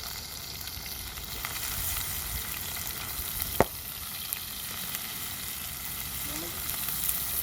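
Crushed shallots fry in hot oil after mustard seeds for a mud crab roast, giving a dense, steady close sizzle with one sharp clink partway through. No voices.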